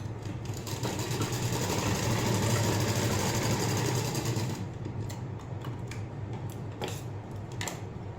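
A sewing machine stitching the neck lining of a blouse, running in a steady fast mechanical chatter for several seconds and then stopping, followed by a few light ticks and clicks, close and alone.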